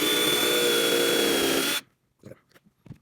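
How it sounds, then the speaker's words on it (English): A power drill whines steadily and loudly while boring holes through a Dollar Tree bar-chime platform, then cuts off abruptly, followed by a few faint clicks and knocks. "now we're just gonna drill down right through where our lines are"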